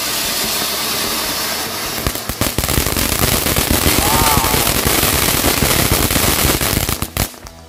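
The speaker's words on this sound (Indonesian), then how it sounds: "Kita lihat bosku, mercon silinder fountain" A cylinder fountain firecracker erupts at night in a loud, continuous crackling hiss with dense popping bursts, sustained for several seconds before cutting off abruptly near the end.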